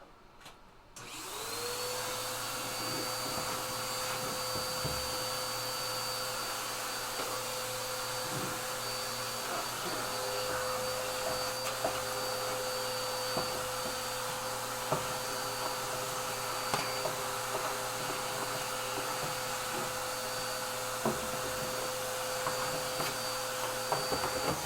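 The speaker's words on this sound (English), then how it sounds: "It's still a vacuum cleaner." A vacuum cleaner whines loudly and steadily after a brief start-up, with a sharp high-pitched motor tone over a constant airy roar and a few small clicks and knocks throughout.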